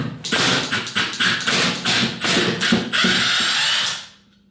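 Screws on a toilet cistern being undone with a power drill in short bursts of whirring, several quick pulses in a row and then one longer run before it stops, close and loud.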